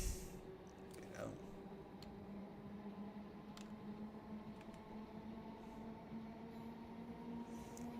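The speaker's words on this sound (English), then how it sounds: "Come on, train." A locomotive in Train Simulator Classic drones on steadily with a low engine hum and rail rumble, occasional faint clanks and a brief squeal near the start, with no talking over it.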